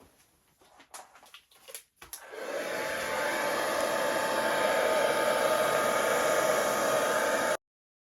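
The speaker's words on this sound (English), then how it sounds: "I'm going to blow that out with the hairdryer." A hair dryer blowing out an acrylic Dutch pour on a pearl base starts after a few faint knocks and handling sounds, then roars in a steady, loud and close whoosh until it cuts off abruptly.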